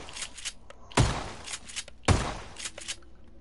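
Two sharp, heavy gunshots ring out about a second apart, each a loud crack with a short tail, amid faint clicks and scattered game noise.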